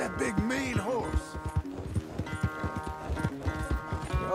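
Horse hooves clip-clop in the video game Red Dead Redemption 2, a steady run of close hoofbeats over harmonic game music, with a few other animal and ambient sounds mixed in.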